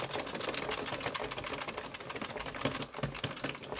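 An AddiExpress Kingsize circular knitting machine cranks continuous rounds, making a dense, steady clatter of rapid plastic clicks that carries on without pause and without voices.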